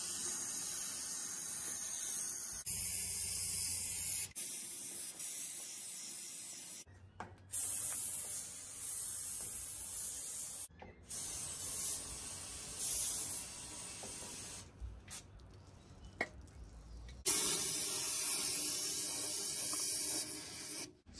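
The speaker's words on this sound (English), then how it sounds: "Now we're going to go through all the inside of the tubing and spray it." Aerosol rust-prevention spray hissing inside the steel tubing of a boat trailer, in several long bursts separated by brief pauses, loud and close with no talking.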